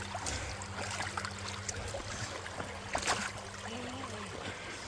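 Creek water runs steadily over and through exposed bedrock, a continuous close burble and trickle with no speech over it.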